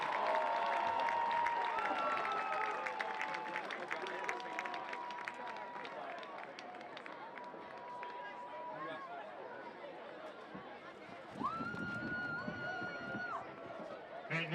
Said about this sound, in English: please bring a big round of applause for our fall senior sports students, athletes, and band seniors